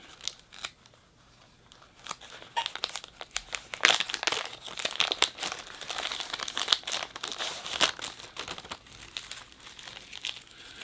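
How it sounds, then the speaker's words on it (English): A shiny mylar foil emergency blanket being unfolded and opened out, giving a steady stream of close, bright crinkling and crackling with sharper rustling bursts throughout, no talking. "They're emergency blankets, and they're a really shiny foil. I'll open one up here."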